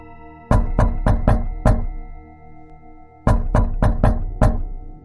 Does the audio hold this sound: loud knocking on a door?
yes